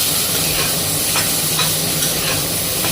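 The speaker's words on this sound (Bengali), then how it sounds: "দিয়ে আলুটা হালকা ভাজা ভাজা করে নেব।" Potatoes with salt and turmeric frying lightly in a pan, a steady close sizzle with soft stirring scrapes throughout and no talk.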